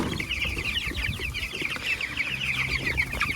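Pasture-raised chickens cluck and chatter continuously at close range, a busy overlapping flock sound with no talking.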